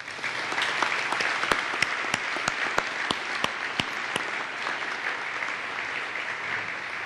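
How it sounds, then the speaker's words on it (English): Sustained audience applause on a stage at a NASA and Boeing announcement, a dense steady wash of clapping with a few sharper individual claps standing out, lasting throughout with no talking. "A big round of applause for all of them."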